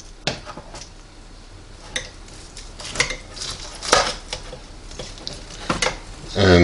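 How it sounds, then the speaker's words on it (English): A knife cuts through smoked St. Louis pork ribs from a Green Mountain Daniel Boone pellet grill, giving several soft, scattered scrapes and knocks close by, with a slightly louder rustle at the end. "So I'm going to just cut one off for a taste test. Slicing through pretty easy there."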